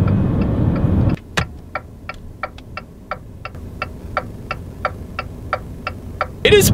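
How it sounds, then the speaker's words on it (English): A 2019 Jeep Renegade turn signal ticks loudly and evenly inside the cabin, about sixteen crisp, echoey clicks at a steady pace after a burst of engine noise cuts off. "It is probably the loudest turn signal that I've ever experienced in a car, and it's kind of echoey as well"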